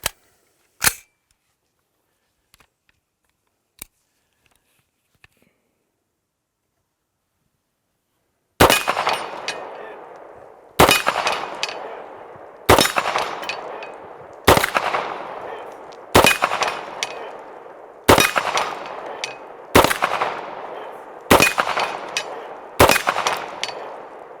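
Glock pistol shots at a shooting competition: a few faint isolated pops, then after a pause ten loud, sharp shots fired in a steady rhythm about every second and a half, each ringing out briefly, with no talking.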